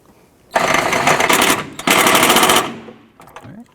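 Rapid rattling bursts from a power tool tightening passenger-side engine mount bracket bolts on a 2009-2015 Honda Pilot: two loud, sustained runs separated by a brief pause, then fading into a few faint clicks.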